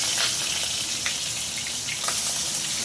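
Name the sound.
fish head frying and spattering in hot oil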